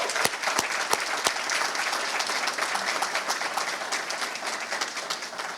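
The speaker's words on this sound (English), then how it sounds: "How about a round of applause for us?" At a McAllen ISD Teacher of the Year event, the school district audience breaks into steady applause, a few sharp nearby claps standing out early over a continuous wash of hands.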